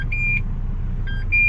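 A Renault Espace 4 sounds its key card warning from inside the car: two sets of steady electronic beeps, each about a quarter second, clear and close over a low idle hum.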